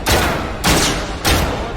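Gunfire in a first-person shooter game, three loud bursts of rapid shots, each lasting about half a second, coming in quick succession, close and dense with no voices over them.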